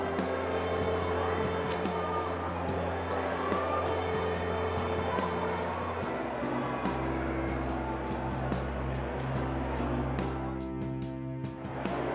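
A motor spins up a POV LED persistence-of-vision display at an engineering expo, giving a steady whirring hum that shifts pitch partway through, with regular ticking pulses and a busy crowd murmuring around it.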